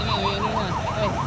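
A police car siren wails past on a road with traffic, its steady rising and falling tone repeating about every 0.3 seconds, loud and close throughout.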